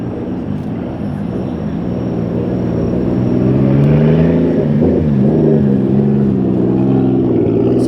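Sports cars, a Nissan R35 among them, roll into the Daikoku parking area with a steady, loud low engine rumble that swells toward the middle and holds. No one talks.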